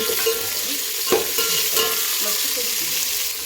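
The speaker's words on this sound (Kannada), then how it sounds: "ಶುಂಠಿ ಬೆಳ್ಳುಳ್ಳಿ ಪೇಸ್ಟ್, ಈರುಳ್ಳಿ, ಹಾಕಿ ಫ್ರೈ ಮಾಡಿಕೊಳ್ಳಬೇಕು." Ginger garlic paste and onion fry in a pan for vegetable pulao, giving a steady close sizzle with a few stirring scrapes and no talk.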